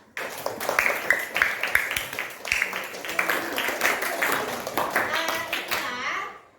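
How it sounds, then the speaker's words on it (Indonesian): A group of students claps after their group presentation in a classroom, scattered, uneven claps running steadily under children's chatter and voices, fading out at the end. "Kita beri tepuk tangan ya."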